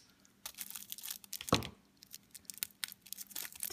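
Wrapped Pez candy in a tin is opened by hand: quiet, close tearing and crinkling of thin packaging in short irregular bursts with a sharper rip in the middle, no voices.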